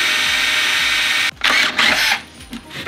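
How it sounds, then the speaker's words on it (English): A drill bores out a bolt head on a Subaru TGV assembly, a loud steady whine that cuts out briefly and then resumes in several close bursts. "but I'm gonna drill it out just a little bit more."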